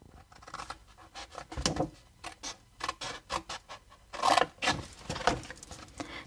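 Paper for a Stampin'Up explosion box is cut close up in a run of short crisp snips and rustles at an uneven rhythm, with no talking.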